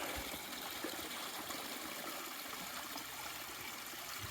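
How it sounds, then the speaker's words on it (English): Creek water trickles and burbles steadily into a small pool across a Pacific Crest Trail path between Snoqualmie Pass and Stevens Pass, a continuous soft wash of flowing water with no voices. "It's a nice little creek, a little pool right across the trail."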